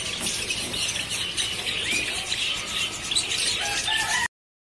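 Chickens in various colours and breeds at the Charminar Murgi Chowk bird market in Hyderabad, with steady overlapping clucks, squawks and a possible rooster crow over a busy, continuous crowd din.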